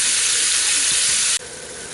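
Pork browning in a seasoned cast iron pan on a Griswold three-burner camp stove gives a loud, steady sizzling hiss up close, which drops abruptly to a softer sizzle near the end.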